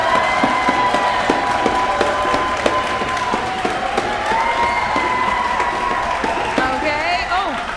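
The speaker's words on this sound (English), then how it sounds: "A little faster, a little louder, a little more clapping, a little more stomping if you are Team Holly." A congregation at a solstice service claps and stomps in a steady, fairly fast rhythm, the beats sounding under sustained singing and crowd voices.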